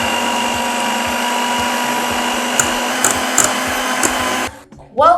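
An electric mixer runs at its lowest speed through cupcake batter, making a steady close mechanical whir with a few light clicks, before stopping abruptly near the end.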